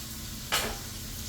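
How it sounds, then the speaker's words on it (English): Butter lands in a hot pan and sizzles in a brief loud burst that fades to a soft steady crackle, heard alone while steaks are being prepared. "We're going to throw that in there and melt some in there"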